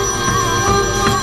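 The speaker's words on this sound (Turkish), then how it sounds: "Telefonu çalıyor." A telephone rings in a Turkish TV drama scene, a loud, steady electronic tone that holds evenly throughout with no voices over it.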